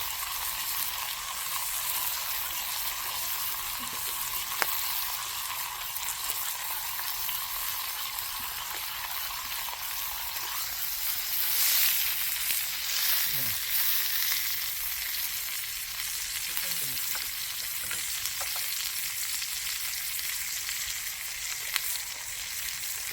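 Meat and onions fry in a pan in a rural home kitchen, giving a steady, dense sizzle that runs throughout, with a few faint scrapes and clicks and no speech.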